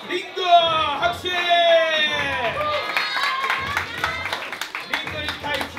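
A contestant at a kids' dance battle quarterfinal gets crowd applause, steady clapping with whoops and shouts from the audience and a loud voice over it for the whole stretch.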